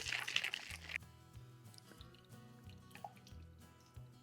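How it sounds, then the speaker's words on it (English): Whiskey and Aperol cocktail poured into a chilled glass: a brief liquid splash and trickle at the start, then quiet drips and faint clinks fading out. "Let's go bring our chilled glass and pour this beauty in."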